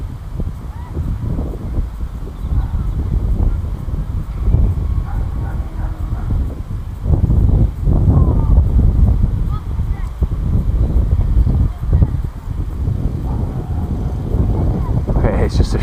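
Gusty wind buffets a microphone outdoors at night during a Parkzone FW 190 RC plane flight, a loud, continuous low rumble with surging peaks throughout.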